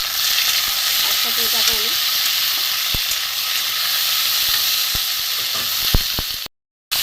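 Prawns frying in hot oil for a light-spiced pointed gourd and prawn curry, a steady broad hissing sizzle with a few sharp clicks, running under a person speaking throughout.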